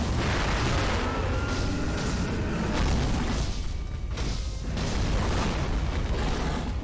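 Dense, continuous crackling and booming bursts of firecrackers in the video game Sekiro: Shadows Die Twice overlap in a loud, chaotic barrage, like strings of firecrackers going off.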